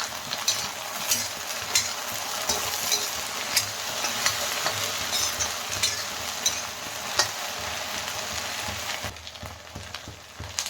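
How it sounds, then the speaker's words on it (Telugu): Sliced okra (bhindi) frying in an oil-filled pan for a stir-fry, with a steady, dense sizzle and occasional scraping stirs. Fairly close and continuous, with no voices, easing slightly near the end. "బెండకాయని కలుపుతూ ఉండాలి ఇంకా అవి మనం మధ్య మధ్యలో చూసి చెక్ చేస్తూ కలుపుకోవాలి"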